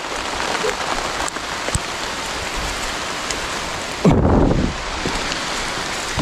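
Steady rain falls in a dense hiss, with a brief louder gust of splashing midway.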